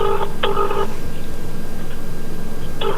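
An outgoing phone call rings back in a clear double-pulse pattern: two quick tone bursts, a long gap, then the next ring starting, steady and close with no talking.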